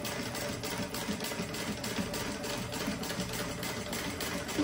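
A sewing machine stitches a handbag seam in a steady, moderately loud mechanical whir with faint rhythmic ticking, running continuously with no voices.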